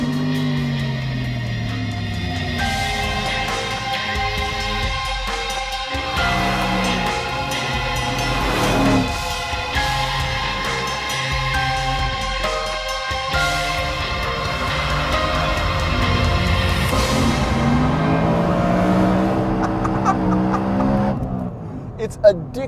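A BMW M3 with a 4-liter V8 that revs to nearly 9,000 RPM, driven on a race track, its engine note climbing and falling through gear changes, loud and sustained from inside the car with a voice talking over it.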